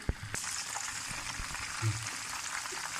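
Chicken pieces for a spicy burger frying in a pan, a steady close sizzle holding throughout, with a few faint knocks and stirring touches.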